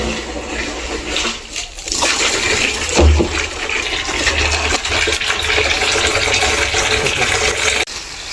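Water gushes from a newly connected pipe on a farm in a loud, steady rushing flow that continues throughout with some splashing.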